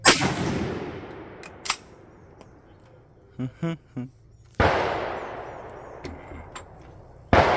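Rifle shots at an outdoor shooting range, with a Lee-Enfield .303 and a Zastava M77 .308 present: two loud, close blasts with long echoing tails, plus a few sharper cracks and brief bursts of muffled chatter between them.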